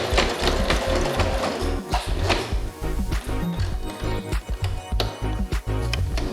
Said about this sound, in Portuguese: Como aqui está grosso o tecido, é legal, ó, ajudar a máquina de costura.